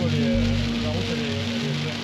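Heavy rain drums steadily on a car driving down the road toward Reims, a dense hiss of water over a low engine hum, close and constant.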